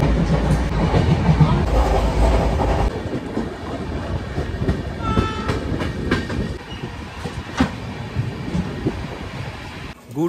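A passenger train from Kolkata to the Dooars runs along the rails with a continuous rumble and rhythmic clickety-clack of wheels over track joints, heard from inside the carriage.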